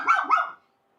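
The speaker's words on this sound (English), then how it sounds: "As you can obviously hear, I'm in a room with 13 Malteses." A Maltese dog in a room of thirteen gives two quick high yapping barks, close and fairly faint, followed by silence.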